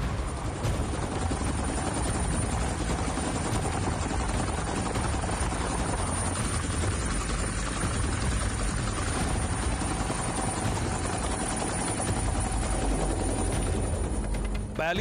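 An Iranian military helicopter flies close over the US Navy warship USS Essex in the Persian Gulf, its rotor and engine roar loud, near and unbroken for the whole stretch, a dense steady wash of noise with no pauses.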